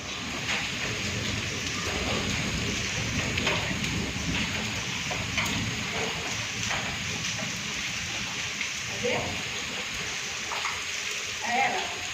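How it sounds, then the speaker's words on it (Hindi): Steady wind and rain pour onto a rooftop, a dense continuous hiss with scattered droplet patter, fairly loud throughout. "हवा चल रही थी और कुछ देर बाद बारिश भी आना स्टार्ट हो गई"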